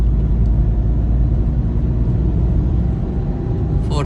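A Tata Tiago hatchback with about 16,500 on the clock accelerating in third gear gives a steady, loud, low engine drone and road rumble from inside the cabin, holding even throughout.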